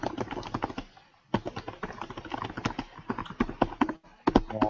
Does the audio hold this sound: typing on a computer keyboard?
yes